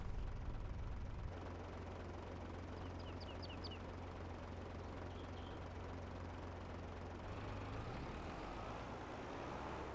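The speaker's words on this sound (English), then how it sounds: "let's quickly turn our tractor on here, get it going" A farm tractor in Farming Simulator idles with a steady low engine drone, faint and continuous, with a few small high chirps early on.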